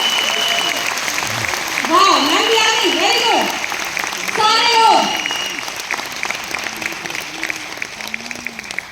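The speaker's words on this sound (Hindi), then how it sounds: "एक बार जोरदार तालियां सभी के लिए, जोरदार तालियां।" Loud applause from an audience at a youth empowerment event, a continuous wash of clapping with a voice speaking over it in the middle.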